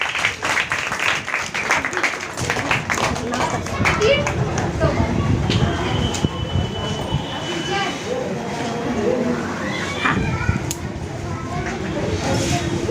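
Children clapping at a school Teachers' Day celebration, a dense ongoing patter of applause mixed with chanting and a teacher's voice.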